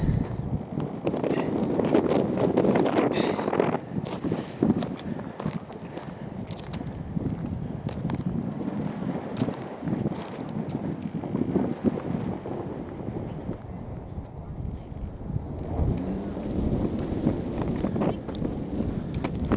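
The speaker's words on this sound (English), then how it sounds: "the wind's blowing a bit through there" Wind gusting along a mountain track in the Tararua Range, a steady loud roar of rushing air and microphone buffeting that persists throughout, with brief scuffing sounds mixed in.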